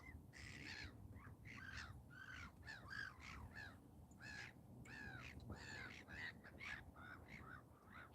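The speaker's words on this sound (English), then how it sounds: "Birds are noisy, aren't they?" Several crows caw repeatedly in harsh, irregular bursts, fairly close, over a low background rumble.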